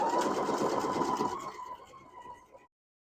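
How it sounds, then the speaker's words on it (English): An embroidery machine stitches out a pumpkin design in marmalade-colored thread, its steady rapid whirring continuing for a few seconds before stopping abruptly. "we are just going to press start. And with our marmalade thread in there, we are just going to let it stitch out"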